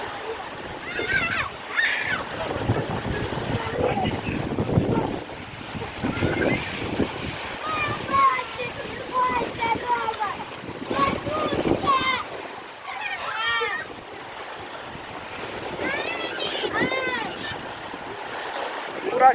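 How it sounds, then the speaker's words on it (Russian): Hurricane-force wind roars in Berdsk, buffeting the microphone in a loud, continuous rush with surging gusts and splashing water, while several people shout and talk excitedly over it. "Ураган к нам пришел."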